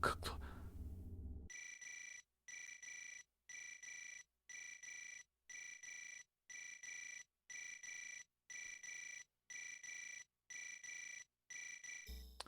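A telephone rings in the survival horror game Parasite Eve II, a steady electronic ring repeating about eleven times in even bursts with short gaps, clear and alone after a brief opening noise.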